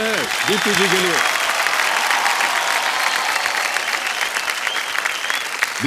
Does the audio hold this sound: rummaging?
no